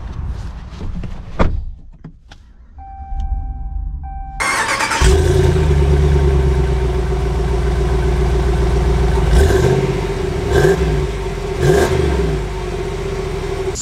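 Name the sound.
2021 Ram 2500 6.4 Hemi truck engine starting and driving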